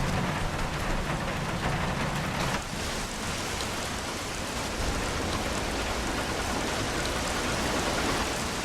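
Steady, dense rain falls throughout a Bee Movie video game cutscene, a continuous hiss of drops with no voices, holding an even loudness across the whole stretch.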